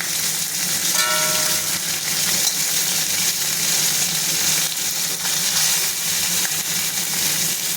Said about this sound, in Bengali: না অল্প করেই ভেজে তুলব এবার আমি